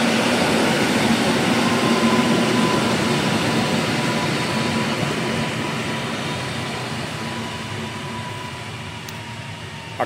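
A Koleje Dolnośląskie train on line S4 at Tychy station rumbles past, a loud, steady roar of wheels and motors with a faint tonal whine, fading slowly near the end.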